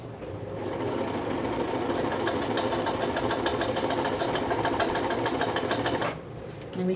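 A Vigorelli 238 sewing machine runs a straight stitch at length 4, its needle motor chattering in a fast, steady rhythm for about six seconds before stopping, close and loud with no talk.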